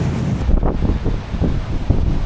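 Loud gusting wind with rain batters the microphone at a campsite in Baler, Aurora, a constant heavy rumble with brief surges and no voices.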